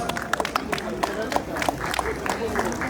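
At a Huaylia festival celebration in Antabamba, the audience applauds the hostess with scattered, uneven clapping amid crowd murmur and voices.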